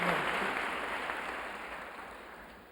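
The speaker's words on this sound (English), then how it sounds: "I don't know why you clap." A lecture audience bursts into applause that starts loud and dense, then slowly fades across a few seconds of sustained clapping.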